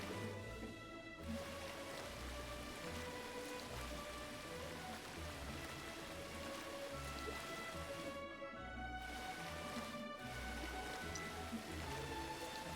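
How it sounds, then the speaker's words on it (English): Heavy rain pours steadily outside, a dense continuous hiss of drops drumming on surfaces, fairly close and unbroken throughout. "We have had a crazy amount of rain today."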